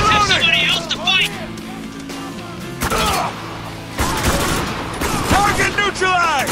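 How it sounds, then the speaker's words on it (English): Rapid bursts of automatic gunfire and shots in the third-person shooter video game Spec Ops: The Line, loud and close, crackling under frantic shouted speech and combat chatter. "There! See him! Fuck! Open fire!"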